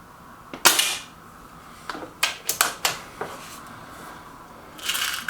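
An Artemis M11 .22 air rifle fires an RWS Super Field pellet in a single sharp crack, then several quieter clicks and knocks follow as the action is handled, all close and fairly faint with no talking.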